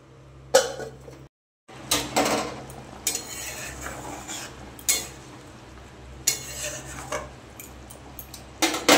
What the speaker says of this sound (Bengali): দেখো বন্ধুরা তরকারিটা ফুটে গেছে, ঢাকনা দিয়ে দেবো।